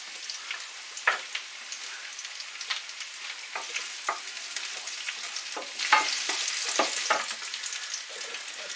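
Garlic and onion fry in hot oil in a pan with a bright, crackling sizzle and scattered pops, rising louder near the end, close and with no talking.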